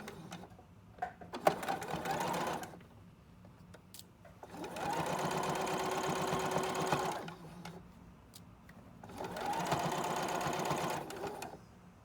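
A sewing machine stitches a fleece hat in three bursts of steady, fast whirring and clatter, each lasting a couple of seconds, separated by short pauses with small handling noises.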